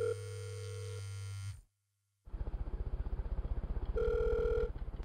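A phone call rings out unanswered: a ringback tone sounds, cuts to brief silence, then returns with rhythmic pulsing tones as the line keeps ringing, fairly faint and with no talk.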